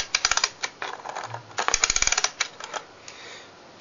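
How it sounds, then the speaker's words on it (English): Rapid metallic clicks from the winding knob of an automatic parking meter being turned with pliers, coming in close, irregular bursts with brief pauses. "With a pair of pliers, gently wind the winding knob of the parking meter until it starts clicking."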